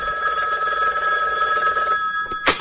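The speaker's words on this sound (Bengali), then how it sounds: "টেলিফোনটা বেজে উঠল" A telephone bell rings continuously with a steady, shrill tone, then cuts off, followed by a brief clatter.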